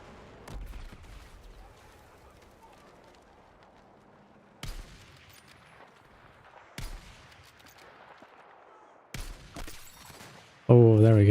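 Gunfire in a video game: several sharp broadband shots spaced a few seconds apart over a low background, ending in a loud burst, with talk running over the shots.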